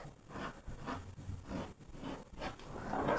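Scissors cut through fabric for a cow neck top, producing a series of rhythmic, close scraping snips over about three seconds, with no talking.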